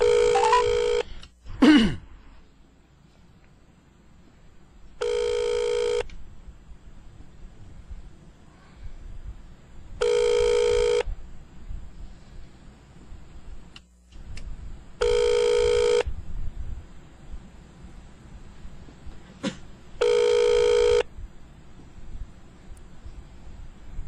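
Telephone ringback while calling home, five evenly spaced ring bursts about five seconds apart, clear over a quiet background with brief rustling between rings.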